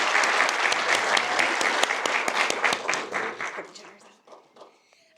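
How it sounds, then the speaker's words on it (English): Audience applause at a police officer graduation ceremony, sustained clapping from a crowd indoors that thins out and fades toward the end. "Let's give them a round of applause."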